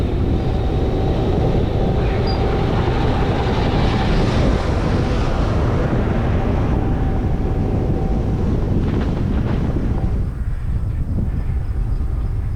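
Strong headwind roars across the microphone during a quick road bike descent near Echo Valley, West Union, Iowa, a loud continuous buffeting rush that eases slightly toward the end.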